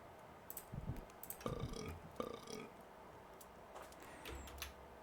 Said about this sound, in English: Is the burping because he's giving me something?